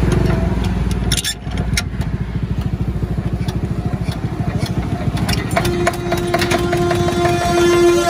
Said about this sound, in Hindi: आप ऐसे इंजन को मैनुअली भी स्टार्ट कर सकते हैं